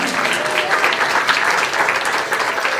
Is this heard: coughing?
no